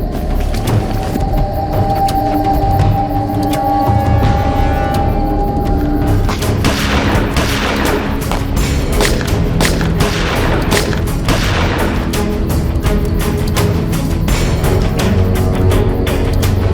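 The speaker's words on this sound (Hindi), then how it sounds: "लगता है कट्टों की गोलियां खत्म हो गई है।" Rapid bursts of gunfire crack out repeatedly, loud and close, with heavier booming shots mixed in over a steady rumble.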